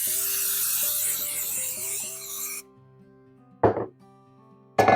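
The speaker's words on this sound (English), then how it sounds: "I am going to spray it with some non-stick cooking spray" Short hissing bursts of non-stick cooking spray coating the inside of a Bundt pan, two quick sprays heard alone after a stretch of kitchen background noise.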